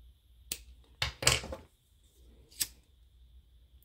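Scissors snip through friendship-bracelet thread in a few sharp, close clicks spaced unevenly over a quiet background.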